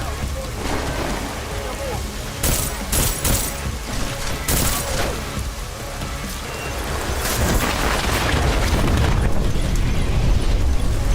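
Loud explosions from a mine going off in the game Deus Ex: Mankind Divided boom and rumble, with crackling bursts like rapid gunfire and a dense, noisy roar building toward the end.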